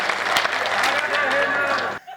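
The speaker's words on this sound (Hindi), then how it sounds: "जोरदार ताली" A crowd at a poetry recitation breaks into brief, dense applause, a short burst of clapping that holds steady for about two seconds and then cuts off.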